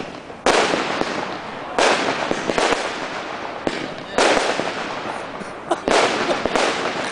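Fireworks and firecrackers go off in Steensel late in the evening, with four or five loud, sharp bursts, each trailing into crackling debris and echo. The reports are close and separated by a second or more of quieter crackle.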